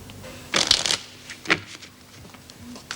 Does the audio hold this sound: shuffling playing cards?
yes